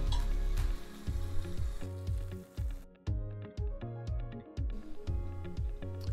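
A grilled cheese sandwich fries in a pan with a steady crispy sizzle, while rhythmic background music with regular beats plays over it the whole time.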